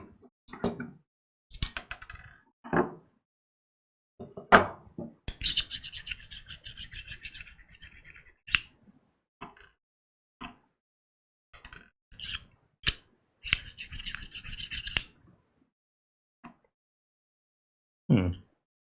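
Small screwdriver tightening screws inside a mini PC, with sparse close clicks and taps broken by short bursts of scratchy, ratcheting turning, separated by stretches of silence.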